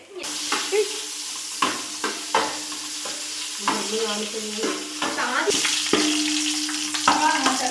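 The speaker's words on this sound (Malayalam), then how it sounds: "അതിലിത്തിരി വെളിച്ചെണ്ണയും കൂടെ ഒഴിച്ചു കൊടുത്ത് ഇഞ്ചി വെളുത്തുള്ളി ചതച്ചത് ഇട്ട് കൊടുത്തിട്ടുണ്ട്" Crushed ginger and garlic fry in coconut oil inside a biryani pot, a steady close sizzle broken by repeated scraping stirs with a spoon against the pot.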